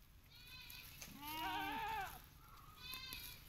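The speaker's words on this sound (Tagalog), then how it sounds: "So, may ibang kambing natin nandun" A goat on a goat farm gives one clear, wavering bleat at moderate distance. Fainter bleats sound before and after it against quiet outdoor background noise.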